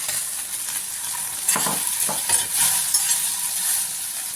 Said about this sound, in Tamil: ஒரு 2 தடவை வதக்கிட்டு நம்ம பொரிச்சு எடுத்துருக்க சிக்கனை இதில் சேர்த்துக்கலாம்